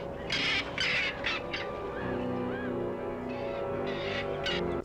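A bird squawks in the 1983 sword-and-sorcery film Deathstalker, a man magically turned into a bird crying out in harsh, repeated calls over a droning soundtrack.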